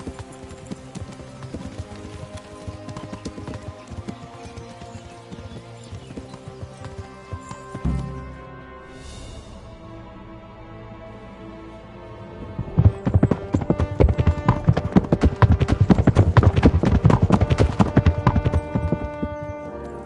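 Rhythmic horse hooves clip-clopping in the video game Kingdom Come: Deliverance, steady at first, then growing louder and denser with music-like tones layered over the hoofbeats.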